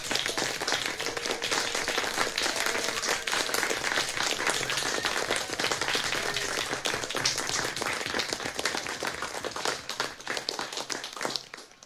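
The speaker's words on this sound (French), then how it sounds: "Nous vous applaudissons, vous les soignants, vous le personnel médical" Applause for healthcare workers during an evening Compline prayer gathering, a sustained patter of hand clapping that holds steady and thins out toward the end.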